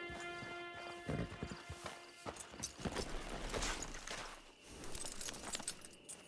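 Horse hooves clip-clop in Red Dead Redemption 2, a rhythmic run of hoofbeats with some tack jingle and a brief whinny, heard fairly clearly against faint game ambience.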